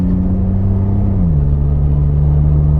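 Car engine held at open throttle in second gear, a steady loud drone with a low hum that drops slightly in pitch midway and then holds, running continuously with no talk.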